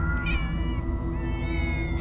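Cats in Minecraft Story Mode, several close, clear meows, one after another, over a low game background.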